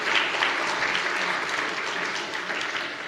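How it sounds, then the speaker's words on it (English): An audience at a live debate on Christianity breaks into warm, sustained applause, a dense wash of clapping from many hands filling the hall without pause. "Big warm round of applause from both sides"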